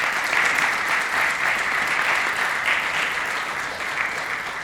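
Audience at a county executive candidates forum gives a sustained round of applause, close and full, tapering slightly toward the end, with no talk over it.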